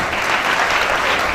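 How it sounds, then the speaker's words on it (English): A crowd at a political gathering applauds an ADC governorship aspirant in Abia with dense, steady clapping that fills the whole short stretch and is heard alone. "Please, a round of applause for our Governorship Aspirant."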